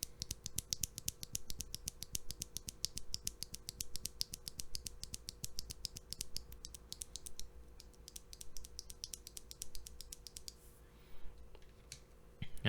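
Boba U4T mechanical keyboard switches, lubed with 3204 and fitted with Deskey films, typed in a fast, steady run of soft clacks close up, easing into sparser keystrokes toward the end, with no talking.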